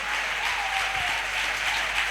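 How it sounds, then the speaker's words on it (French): Steady applause from a church audience fills the space, a dense continuous clatter of clapping hands with scattered cheers, no speech over it. "acclame plus fort que ça"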